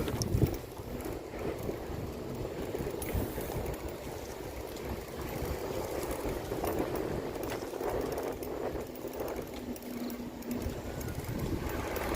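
Wind blows steadily outdoors on a rural route, a loud continuous broadband rush with gusty buffeting against the microphone throughout.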